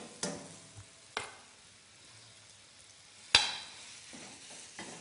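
Minced meat being stirred into chopped onion in a hot pan, with a soft steady sizzle broken by a few sharp utensil scrapes and knocks against the pan, close and fairly quiet, no talking.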